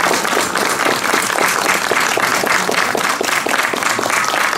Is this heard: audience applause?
yes